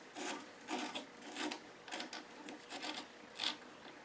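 Wooden rings rubbed by hand over a sheet of sandpaper beside a lathe, giving a series of close, raspy back-and-forth strokes in short uneven bursts, with no one talking.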